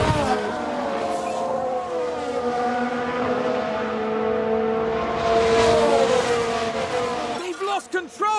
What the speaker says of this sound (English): They've lost control and spun.